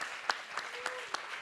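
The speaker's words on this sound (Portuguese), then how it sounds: "Palmas." An audience at a book fair talk applauds faintly, with a soft wash of clapping and a few sharper, evenly spaced claps standing out.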